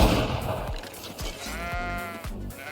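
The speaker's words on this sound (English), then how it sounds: "I'm intrigued by these indestructible sheep" Sheep bleat in the video game GreedFall, a few wavering calls over game sounds with sharp percussive thumps, loud and close.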